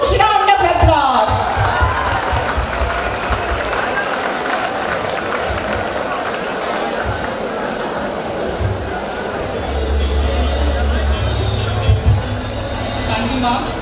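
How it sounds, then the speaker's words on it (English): An audience at a college freshers' day bursts into applause and cheering to welcome the principal. The dense clapping runs steadily throughout, with scattered whoops and crowd noise layered on top. "Come on, welcome madam with a huge round of applause"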